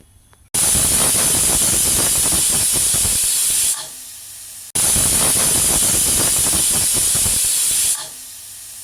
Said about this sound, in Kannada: ಈಗ ಇದನ್ನು ಲಿಡ್ ಕ್ಲೋಸ್ ಮಾಡಿ ಎರಡು ವಿಷಲ್ ಕೂಗಿಸ್ಕೊಳ್ಳೋಣ